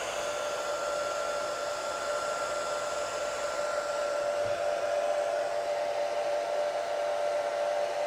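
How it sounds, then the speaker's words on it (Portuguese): A hair dryer blows on an LCD TV circuit board, running continuously at steady volume, a constant airy whoosh with a faint whine, close by and uninterrupted, with no talking. "eu vou ligar o secador de cabelo aqui, ó"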